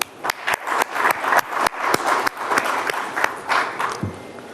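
Audience applause at a media conclave: dense broadband clapping with sharp irregular claps standing out near the front, sustained for several seconds and tapering off at the end.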